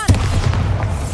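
A Bombarda spell explodes in the video game Hogwarts Legacy as a single deep, loud boom that rumbles on for about a second.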